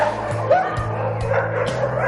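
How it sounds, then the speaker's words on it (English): Dogs at an animal shelter let out several short barks and yips with a whimpering whine mixed in, fairly close and lively over a steady background hum. "We've got such beautiful dogs here."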